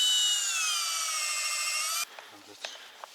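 A power tool bites into a birch trunk to tap its sap, letting out a loud, steady high whine for about two seconds before cutting off. Faint knocks and light drips follow.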